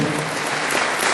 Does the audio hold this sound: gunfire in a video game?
no